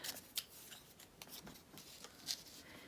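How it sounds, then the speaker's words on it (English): A piece of junk mail paper being torn by hand for a craft envelope pocket, giving faint, close, crisp ripping and rustling in short irregular bursts. "So I'm just gonna tear it down a bit."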